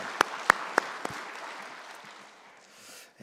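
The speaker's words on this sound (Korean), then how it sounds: "하나님께 영광의 박수 올려드립니다." Congregation applause during a Sunday church worship service, a few loud separate claps up front blending into a steady wash of clapping that fades toward the end.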